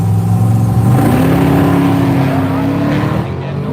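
A Camaro at Woodburn Dragstrip snarls with a loud, close engine note that climbs and holds in pitch under strain, a continuous revving drone with faint background voices.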